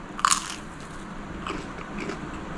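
A crunchy fried shrimp peyek cracker is bitten once with a sharp, loud crack, followed by a few softer crunches of chewing close to the mic.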